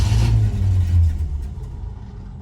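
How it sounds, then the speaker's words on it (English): A 1970 Ford Country Squire station wagon, parked for 14 years, runs roughly with a loud, low, uneven engine rumble that quickly fades away within about two seconds. "Let's see if it will idle, however roughly."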